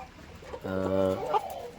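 An Aseel chicken gives a short, tonal call lasting about half a second, close to the microphone, with faint background noise around it.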